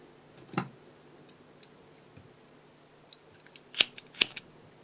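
A few sharp scissor snips cutting thread while tying a fly, isolated clicks and small ticks scattered over a quiet background.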